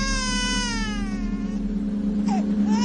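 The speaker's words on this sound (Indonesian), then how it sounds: "di sampingku kini ada bayi yang menangis" Baby crying close by in a hotel room, a wavering high wail with rising and falling pitch over a constant low hum, and a short upward squeal near the end.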